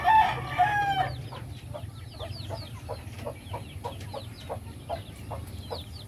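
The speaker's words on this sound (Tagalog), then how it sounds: "gawain natin ang pagpapakain ng ating mga alagang native na manok" Native free-range chickens on a farm being fed kitchen and dormitory leftovers, with a rooster crowing loudly at the start followed by a steady run of clucks and calls from the flock at close range, no talking.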